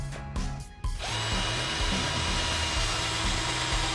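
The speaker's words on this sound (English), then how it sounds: "So all you gotta do is drill your 3 parts here." A power drill whines and bores steadily after a couple of brief starts, grinding continuously through pallet wood at close range.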